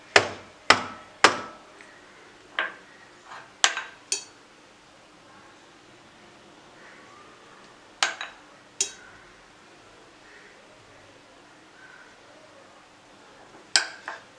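Marzipan-stuffed chocolates in a mould being tapped on a surface to settle the filling, a few sharp knocks in quick succession, then scattered single taps after long quiet gaps.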